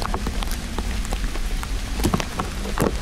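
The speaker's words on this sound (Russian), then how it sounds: "Дождь усиливается." Steady, heavy rain falls on surfaces along a road by a forest, a dense close hiss with scattered louder drops striking throughout and no voices.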